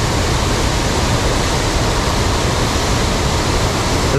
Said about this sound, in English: Oh, there's the other waterfall.